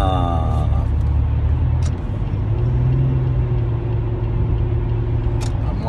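Road traffic rumbles heavily, with a loud continuous low drone of passing vehicles and a couple of brief hissing bursts, close and unbroken.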